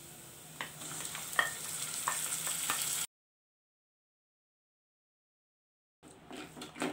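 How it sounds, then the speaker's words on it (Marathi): Grated onion sizzles in oil with ginger and garlic, a steady crackling fry with a few stirring clicks, then a sudden stretch of silence before the frying returns briefly. "कांदा छान परतून घेऊया."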